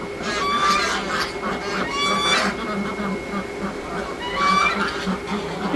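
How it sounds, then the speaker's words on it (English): Ducks and geese call in bursts near a pond as the birds are let out, harsh honks and quacks coming in clusters over a steady background hum, with a person talking nearby. "All the other ducks are still underneath there"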